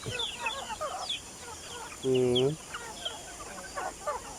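A single loud cluck-like call from a nearby chicken stands out over soft, scattered clucking and bird chatter in the background.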